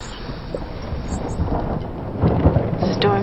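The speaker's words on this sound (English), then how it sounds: "The storm's coming." A thunderstorm in the movie Sherlock Holmes (2009), a low rumbling roll of thunder with rain hiss that builds toward the end, moderately loud and without speech.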